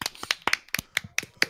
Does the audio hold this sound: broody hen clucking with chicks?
no